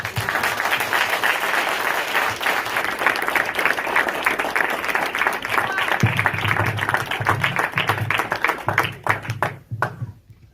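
Audience applause fills a school board candidate forum in Waukesha after a candidate's speech, a steady dense clapping that runs about ten seconds before thinning out, with a low hum joining partway through.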